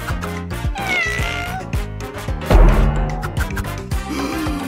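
A cat meows several times over a busy backdrop of music and cartoon effects, with a loud crash-like hit partway through.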